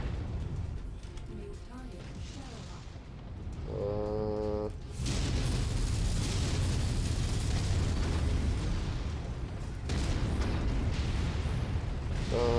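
A mech in MechWarrior 5 blows apart in a loud, sustained roar of explosion and burning rumble that lasts several seconds. Players talk over the game noise before and during the blast.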